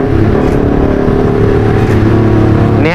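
A Honda CB150R V4 motorcycle with upside-down front forks being ridden slowly at night, its engine a loud, steady, close drone with a rise in revs at the very end.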